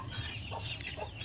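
A hen sitting on dummy eggs gives a few soft, quiet clucks over low background noise.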